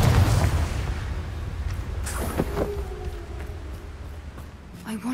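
In the middle of a spell fight in Hogwarts Legacy, a Confringo blast sets off a heavy booming explosion at the start that dies into a rumbling tail, with further thuds and light voice sounds during a battle.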